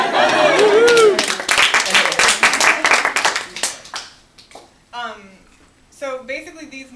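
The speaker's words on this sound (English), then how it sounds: "Give him a round of applause." An audience at a talk on online grocery delivery breaks into brisk, close applause with whoops over the clapping, then it thins out as a speaker's voice comes back in.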